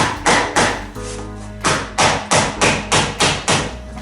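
Tiny finishing nails are tacked into wooden boat planking in a series of about ten sharp, close hammer taps. The blows come in a steady rhythm with a short pause near the start.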